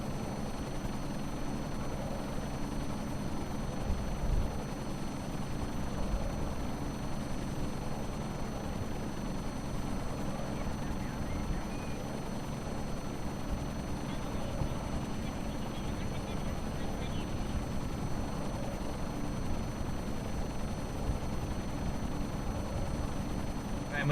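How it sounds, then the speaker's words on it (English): Steady helicopter drone in Kerbal Space Program, a continuous low rotor and engine rumble holding level throughout, flying over a huge dam and reservoir in daytime, with no other clear sounds on top. "I wanted to come over here in a helicopter anyway"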